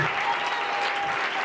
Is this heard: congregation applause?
yes